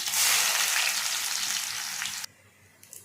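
Onions hit hot oil with mustard seeds and cumin, giving a loud, dense sizzle up close that cuts off sharply, leaving faint quiet crackles afterward.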